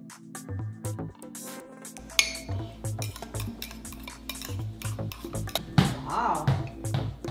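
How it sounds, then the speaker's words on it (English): Keto mug cake batter of almond flour and baking powder gets stirred in a mug, with repeated clinks and scrapes of a spoon, fairly close, while a voice talks over it. "And now we mix these together."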